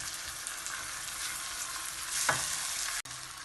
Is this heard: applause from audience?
no